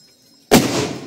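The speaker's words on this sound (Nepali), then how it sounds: "त्यहाँ बम पटेका पड्काएर" A firecracker set off for Diwali bursts with one sharp, loud bang halfway through, followed by a rumbling, crackling decay; quiet before it.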